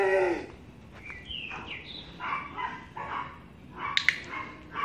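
Puppy barking during agility training, a few sharp barks mixed with higher yips and whines, moderately near, with quiet background around them.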